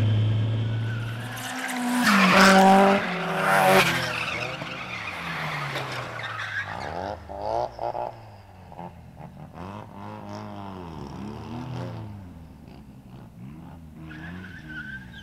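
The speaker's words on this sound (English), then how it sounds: "He spun out and then I clutch kick coming up." A car drifting on a street spins out, its tires skidding in a loud, close screech that then breaks into a series of wavering squeals and engine revving as it recovers.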